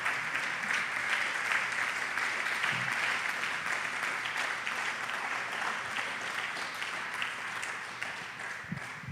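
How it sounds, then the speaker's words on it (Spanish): Church congregation applauding during a service, a dense, sustained wash of clapping that holds steady and loud throughout with no talking over it. "Denle ese aplauso al Señor."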